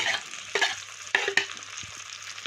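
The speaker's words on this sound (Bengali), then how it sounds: "আবারও চালটার সাথে আলুগুলোকে সুন্দর করে আবারও মিশিয়ে নেব মশলার সাথে ভালো করে" Spoon scraping and stirring through fried potatoes, rice and spices in a pan for a muri ghonto dish, with a few sharp clatters over a soft steady sizzle; no talk.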